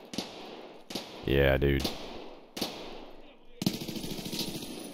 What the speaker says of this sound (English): we got gunshots coming from the top side.